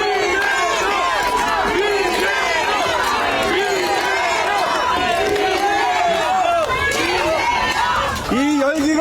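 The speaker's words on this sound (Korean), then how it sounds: "큰 박수와 함성을 부탁드리면 어떨까요" A large crowd at a political campaign rally in Hongseong-Yesan, South Chungcheong, roars with continuous loud cheering, shouting and chanting, a dense and unbroken wall of voices that lasts throughout.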